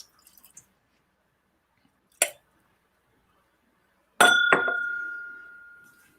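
A Horse Soldier bourbon glass gives a sharp clink, then another ringing glass strike that sustains and fades over about two seconds, close and alone in a quiet room.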